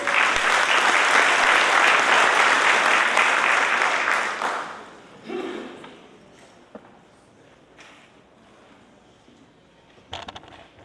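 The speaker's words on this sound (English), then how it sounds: "give her a round of applause" A crowd at a formal New York gathering welcomes the newly crowned Miss Grenada USA with loud, sustained applause for about four seconds before it tapers off into quiet room noise and scattered small knocks.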